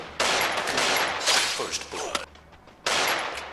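Desert Eagle pistol fire in the mobile shooter game Free Fire: dense, loud bursts of gunshots crowding the first two seconds, a brief lull, then another sharp burst near the end, with no voices.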